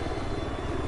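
Helicopter in Battlefield 4 flying backwards, a steady, loud rotor and engine drone that holds without a break for the whole moment.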